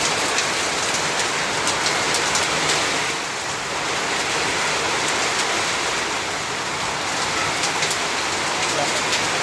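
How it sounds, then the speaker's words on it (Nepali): Heavy rain pours down steadily on a maize field just after a hailstorm, a loud, dense, continuous wash of falling water with no pauses. "अब चाहिँ पानी मात्रै पर्दैछ।"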